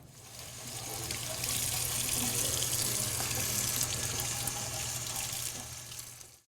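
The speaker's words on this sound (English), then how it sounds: "I'm ready to take that to the sink and get that rinsed off" Water runs steadily from a kitchen sink faucet while a piece of etched glass is rinsed, a loud close continuous rushing splash that swells in and cuts off at the end, with no talking.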